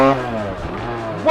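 Motorcycle engine revving hard during wheelie practice, a loud close-up mechanical roar that holds steady and then climbs sharply in pitch at the end.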